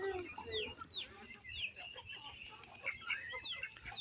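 Chickens on a home farm cluck while feeding, with overlapping bright calls and chirps from several birds over a steady, busy background.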